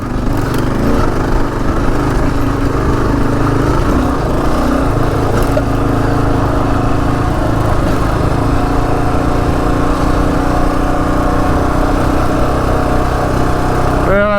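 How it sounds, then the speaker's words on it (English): Engine of a Gen 3 Kawasaki KLR motorcycle labouring steadily while riding through deep sand, a continuous loud drone close to the microphone with rumbling wind and tire noise. "The bike is showing its weight right now."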